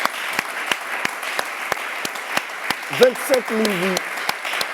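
A church congregation breaks into steady applause during a broadcast service, a dense spatter of claps continuing throughout while a voice talks over it.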